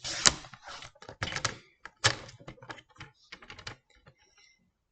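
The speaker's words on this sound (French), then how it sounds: "Donc je la positionne ici et je la coupe avec mon massicot." Paper trimmer (massicot) slicing a photo for a scrapbook album page, with sharp close clacks and short cutting strokes in irregular bursts that fade into quiet.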